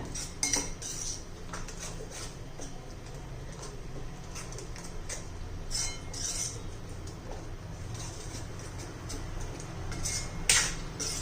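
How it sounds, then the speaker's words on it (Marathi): A spoon stirs sprouted moong appe batter after Eno is added, making quiet, close clinks and taps against the bowl over a low background hum. "त्यात एक इनो चार दो पाकिट घालूया व्यवस्थित मिक्स करून घेऊया"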